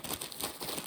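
A plastic bag holding cherry and vanilla flavoured product crinkles and crackles continuously up close as someone struggles to open it, with soft broadband rustling and no pauses.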